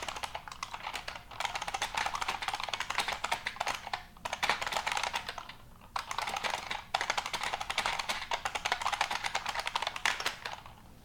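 Rapid, loud clacking of a computer keyboard in three long bursts separated by brief pauses, close to the listener.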